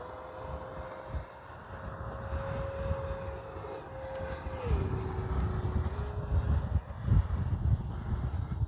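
A Freewing Mirage 2K RC jet flies past on a windy day, its electric ducted fan giving a steady whining roar whose pitch drops as it passes, over rumbling wind noise.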